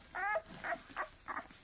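Five-day-old puppies whimper and yip after tail docking, four short high-pitched cries in an uneven sequence, close and fairly clear over a low background hum.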